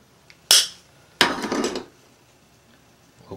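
Snip of pliers or cutters trimming excess wire from a handmade bucktail wire-bait fishing lure: two sharp metallic clicks close up, a brief snap followed by a longer rattling cut, in a quiet room.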